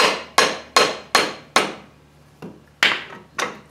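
Sharp hammer taps seat a steering knuckle onto dowel pins on a New Holland TC33D tractor front axle, eight close, loud metallic blows in quick bursts with a short pause midway.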